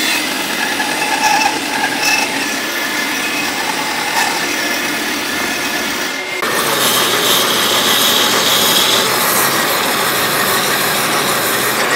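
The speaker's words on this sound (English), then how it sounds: "I'm gonna drill in from both sides this time" Handheld power drill boring into a wooden block for a wooden hand plane, a steady whirring drone that shifts in pitch partway through as the bit bites, loud and close with no talk.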